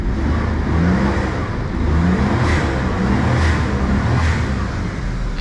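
A turbocharged car fitted with boost and voltage gauges revs hard in repeated bursts. Three or four strong rises and falls of engine roar sit over a loud, continuous mid-range engine drone, close by and with no talking.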